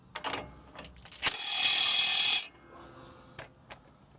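A 24 mm wrench tightens a nut on the front steering of a 2013 Ford F250 with a 6.7 Powerstroke, giving a few close clicks and then a sustained, loud ratcheting whir lasting about a second before scattered light clanks.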